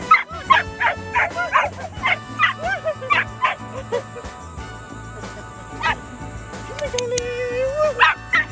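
A stray puppy on a Costa Rica beach lets out a rapid series of short high yips and barks, then a drawn-out whimper, close and fairly loud against quiet background hum.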